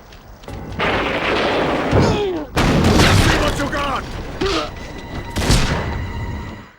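Shotgun fire in the video game 007: Everything or Nothing: several loud booming blasts in quick bursts, each with a ringing tail, alongside other in-game clatter.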